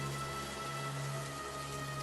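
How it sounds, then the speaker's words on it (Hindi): Rain falling outside a hut as a story sound effect: a steady, soft hiss of rainfall mixed with a low, sustained tonal hum, continuous and fairly faint. "बाहर बारिश की बूंदें लगातार गिरती रहीं"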